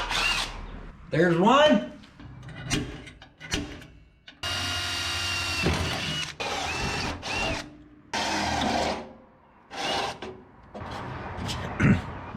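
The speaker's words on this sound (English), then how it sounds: "All right, let's do some drilling." Cordless power drill whirs in short repeated bursts, boring holes through metal while building a battery tray during a car assembly, close up, with pauses between holes and someone talking briefly between runs.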